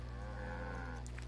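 Cows moo in the Black Desert Online farming game on PS4, a sustained low lowing call filling the whole moment, with a brief higher bleat-like sound near the end and no talk.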